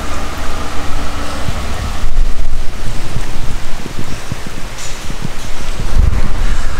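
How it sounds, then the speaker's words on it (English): Steady rain falls outdoors in a backyard on a horse event day, a dense, continuous hiss with low rumbling and scattered patters, fairly loud and unbroken, with no voices. "I think we got a little rain today."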